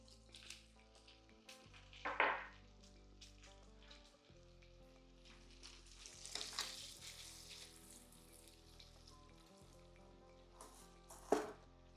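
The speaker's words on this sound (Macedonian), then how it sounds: "Путерот се стопи" Butter melting in a pan for traditional kachamak with cheese and bacon, giving a faint, steady sizzle with a few sharper crackles and pops scattered throughout, no voices present.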